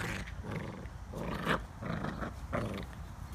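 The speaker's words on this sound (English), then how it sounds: "The big puppies picking on the little puppies." Young Labradoodle puppies growl and snarl in bursts while playing and wrestling together near water, the rough rumbling noises close and fairly steady with no talking.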